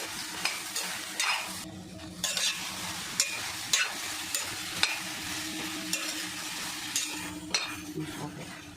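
Okra fries in a pan with a little oil, giving a constant close sizzle as a utensil stirs and scrapes it in repeated sharp clinks and scuffs against the metal.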